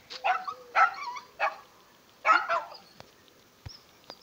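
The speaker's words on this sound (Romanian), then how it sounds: "Și câinii mei!" Dogs bark in short separate bursts outdoors, several sharp barks in an uneven rhythm with pauses between, at moderate distance, followed by a few faint clicks and knocks.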